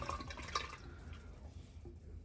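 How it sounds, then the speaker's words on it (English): A boat toilet fills with water while flushing at the same time, heard as a close, gurgling trickle and drip that fades toward the end. "this is filling up and flushing at the same time"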